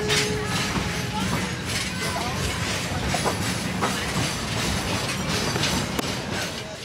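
Historic passenger train rolling through redwoods near Santa Cruz, with a steady rumble and clickety-clack of wheels on rails, a brief squeal, continuous and close throughout.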